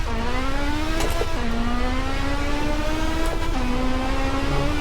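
A Porsche 918 Spyder in Test Drive Unlimited 2 revs hard through its gears, each rising engine whine broken by a quick shift drop, loud and steady without talk.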